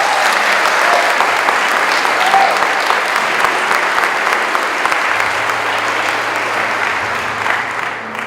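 A church congregation applauds during a sermon, loud sustained clapping from a large crowd that fills the room for several seconds before tapering slightly, with faint background tones near the end.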